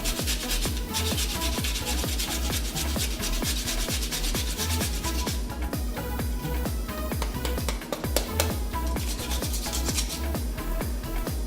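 Daikon radish rubbed hard against a kitchen grater, a steady rhythmic rasping of quick repeated strokes, loud and close, continuing without pause and with no talk over it.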